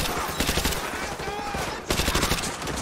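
Dense gunfire rattles through a Call of Duty: Modern Warfare 2 campaign battle, with rapid loud shots running almost continuously, a brief dip before the shooting resumes, and a voice faintly under the noise.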